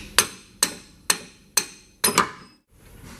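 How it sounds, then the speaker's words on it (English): Five sharp metallic hammer strikes on a 21mm open-end wrench ring out at a steady pace, the last one doubled, then silence, as a bolt is driven out on a Range Rover or Land Rover LR3 suspension. "take that 21mm wrench open end and sneak it up behind the washer and hit it out with a hammer"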